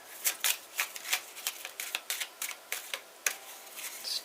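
Quick, crisp flutters of tarot cards being shuffled, repeated in irregular bursts, close and fairly quiet, with no talking.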